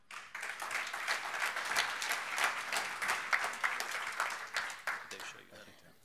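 An audience applauds to welcome a speaker at a talk on post-conflict agriculture, with dense, steady clapping that fills the room throughout and tapers slightly at the close.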